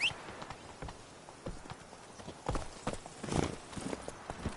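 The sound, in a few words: horse galloping, Roach in Witcher 3 video game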